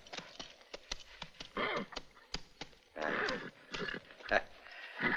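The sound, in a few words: horse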